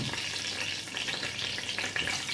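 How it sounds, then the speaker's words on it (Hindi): Wet bay leaves with cardamom and black pepper spattering in a hot karahi, a continuous crackling sizzle with sharp pops, close and steady with no talk. "थोड़ा सा तेज़ पत्ता क्योंकि गीला था इस वजह से छींटे उड़ा रहा है"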